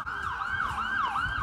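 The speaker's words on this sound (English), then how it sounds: "It's an ambulance." An ambulance siren wails nearby, its pitch sweeping up and down in quick repeating cycles over a low background rumble.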